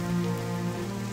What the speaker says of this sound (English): I can't stay out in this rain any longer.